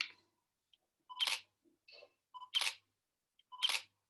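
A single-lens reflex camera shutter clicks three times at roughly one-second intervals, each a sharp, close, crisp snap in an otherwise quiet room.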